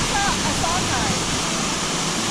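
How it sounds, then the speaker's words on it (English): A waterfall on a salmon river in Seward, Alaska, heard up close as a loud, steady, broadband rushing roar that continues without a break, with faint voices in the background. "Waterfall, river, bridge."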